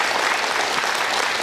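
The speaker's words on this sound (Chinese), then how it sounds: "来给他鼓掌。" Loud, dense applause from a seated audience at a talk, sustained and even throughout without any speech over it.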